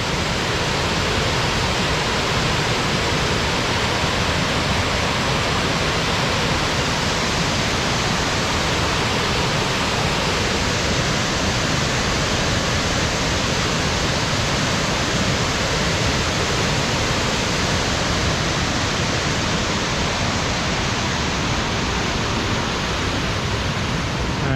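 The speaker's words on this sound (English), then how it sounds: "I don't know what waterfall this is." A powerful waterfall on the Wonderland Trail at Mount Rainier roars continuously, a dense, loud rushing wash of water that never lets up, with no voices.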